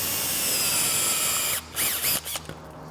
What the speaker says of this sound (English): Kind of start the drill slow.